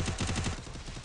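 Automatic gunfire from a mobile shooter game, a fast, even burst of repeated shots lasting about a second, loud and up close with no talk.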